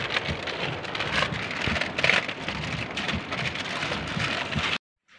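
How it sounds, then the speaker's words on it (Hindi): Heavy rain pouring down steadily in Jashpur Nagar, a dense, loud drumming wash with irregular heavier splatters, continuing unbroken before stopping suddenly at the end. "पता नहीं कितनी देर में रुकती है बारिश।"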